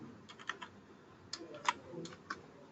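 Quiet computer keyboard typing in an Oracle R12 Financials software session: a handful of soft, irregular key clicks spread over a few seconds against a faint background hiss.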